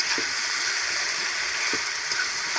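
Food cooking in a pan on a gas stove gives off a continuous, even sizzle, close and fairly loud, with no voices.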